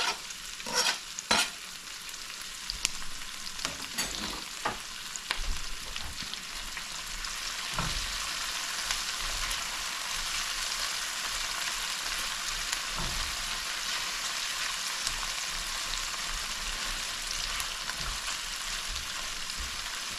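Tomatoes frying in a pan for a fried okra and salt fish dish give a continuous close sizzle, with a few louder clinks and scrapes of stirring early on and occasional soft knocks later.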